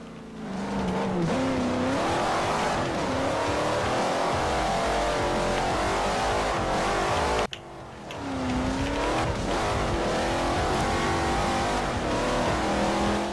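A Ferrari race car engine in Forza Motosport 4 roars loudly and close, climbing and dropping through gear changes with a brief cut midway, mixed with some tire squeal.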